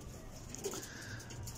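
Pigeons kept in rooftop lofts coo faintly at a distance in a soft outdoor setting, with low murmuring calls over a steady background hum.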